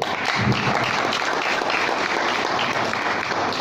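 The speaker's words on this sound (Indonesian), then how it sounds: "Tepuk tangan dulu tuh." Sustained applause from a crowd, steady and dense throughout, with no talking over it.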